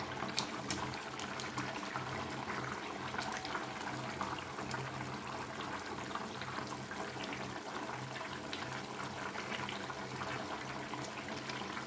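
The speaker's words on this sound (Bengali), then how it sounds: "আবার ঝোলটা টকবক করে ফুটছে।" Fish curry gravy with cauliflower and potato boiling in a pan, a steady close bubbling and gurgling of thick liquid with small pops, continuous and fairly quiet with no talking.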